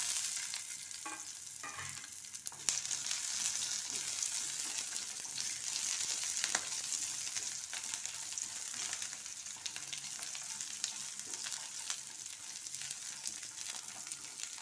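Garlic cloves and a small chopped onion fry in a pan over a low flame, with a steady bright sizzle and occasional stirring scrapes throughout, fairly quiet and with no voices.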